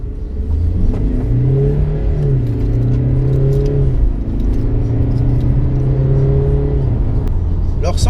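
A 2020 Mercedes C-Class accelerating hard in sport mode, with a loud, continuous engine rumble and drone that climbs and shifts in pitch through the gears, heard from inside the car without talk.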